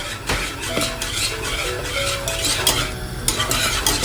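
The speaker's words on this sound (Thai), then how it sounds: "คนจนกว่าแป้งจะใสนะคะ ระหว่างนี้ยังใช้ไม่ได้นะคะ" A spoon stirs thickening rice flour batter in a pot over medium heat, steady scraping and sloshing with occasional light clinks against the metal, close and continuous.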